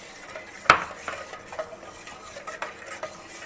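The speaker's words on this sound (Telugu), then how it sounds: "ఇప్పుడు కస్టర్డ్ పౌడర్ మనం కలిపేసుకున్నాం కదా, ఇది ఇందులో పోసేసుకొని కలిపేసుకోవాలి." Custard powder mixture is stirred into hot sweetened milk in a pot for caramel bread pudding, starting with one sharp clink of the utensil, then soft scraping strokes over a faint simmer.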